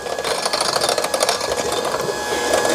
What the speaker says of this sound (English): So I'm going to turn my mixer on a very slow speed